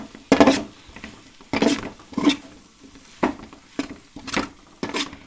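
Pasta being stirred in a pot at home, a spoon scraping and clattering against the sides in uneven bursts, close and moderately loud, with no talking.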